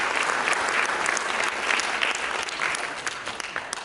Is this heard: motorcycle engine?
no